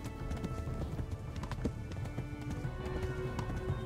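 Horse hooves clip-clop in a steady galloping rhythm in the medieval game Kingdom Come: Deliverance, loud and close against a dense, busy game soundscape, with no voices.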